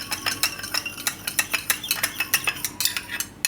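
A spoon stirring sugar in a bowl to dissolve it while making Mughlai paratha dough, a quick run of sharp rhythmic clinks and scrapes against the bowl, close and clear with no talk.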